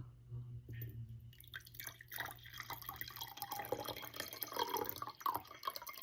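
Cold water splashes and trickles into a big mug for passion fruit juice, a faint, close pouring sound with gurgling drips that grows fuller as the mug fills.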